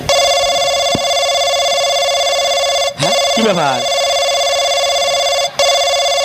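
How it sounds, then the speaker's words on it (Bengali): A loud, steady electronic phone ringtone sounds without a break, while people exchange a few words over it and a couple of brief knocks cut in. "আরে ফোন আইছে কার"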